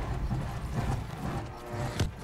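Horse galloping in the video game Battlefield 1, a rhythmic clip-clop of hooves under a low rumble of game ambience, with a sharp thump near the end.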